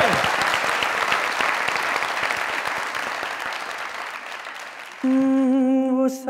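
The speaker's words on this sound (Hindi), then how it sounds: "तालियां जरूर साथ दीजिए" Studio audience applause on the Pakistani comedy talk show Mazaq Raat, dense clapping that gradually thins, then abruptly gives way to a sustained musical tone near the end.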